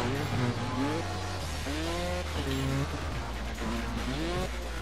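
A motorbike engine in the video game Trials Fusion revs up and down repeatedly, rising and falling in pitch over a steady background hum, with a player talking over it.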